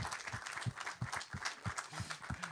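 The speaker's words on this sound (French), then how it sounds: "On peut applaudir à Laetitia Patsanel-Garrick pour cette musique." An audience applauds a composer after a film screening in a hall, steady rhythmic clapping continuing through the whole stretch at moderate loudness with no talk over it.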